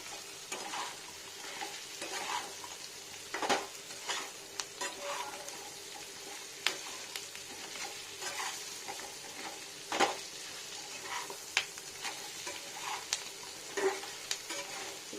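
Chili chicken being sautéed dry in a pan with a steady sizzle throughout, broken by repeated sharp scrapes and clinks of a spatula stirring the pieces, moderately quiet and without speech.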